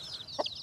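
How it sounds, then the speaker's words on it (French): A hen in a small temporary pen with her twelve chicks gives a single soft cluck with faint high cheeps around it, quiet and close in a calm farmyard. "Il y a une poule et 12 poussins."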